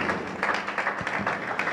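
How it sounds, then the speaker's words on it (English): Audience applause at a university alumni debate event, welcoming a speaker to the podium: a steady wash of many hands clapping, fairly close, with no talk over it. "shall we, with a round of applause, welcome Dr. Sulley."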